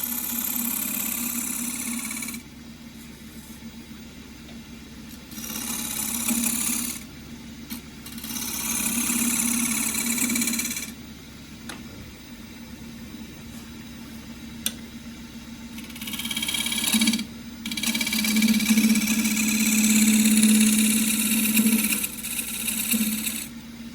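A wood lathe spins an unbalanced claret ash bowl blank at about 1150 rpm, a steady motor hum broken by repeated loud bursts of tool cutting and rough chatter that come and go in several long passes.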